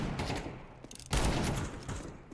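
Gunfire in Counter-Strike 2 sounds as a sharp, loud burst of shots, with a heavier report about halfway through, over steady game background noise and no speech.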